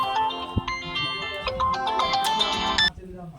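A mobile phone ringtone plays a bright melodic electronic tune for about three seconds, with a few knocks and some faint speech in the background.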